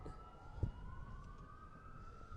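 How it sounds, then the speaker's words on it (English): Police and fire engine sirens at a town bicentennial parade in Troy, Ohio, a steady wail drifting in from a distance over outdoor crowd ambience and breeze, with a brief thump near the start. "And now we are hearing the sirens for sure."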